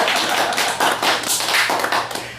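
Audience clapping at an education forum while a servo-motor demonstration runs, a short burst of scattered hand claps heard close and fairly loud, with no talking over it.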